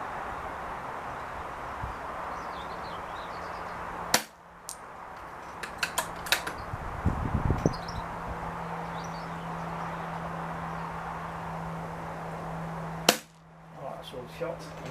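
Two sharp, loud reports from a Daystate Wolverine air rifle fired outdoors about nine seconds apart, each a sudden crack with a short tail, under steady wind and a low hum, with scattered faint clicks and handling noises between.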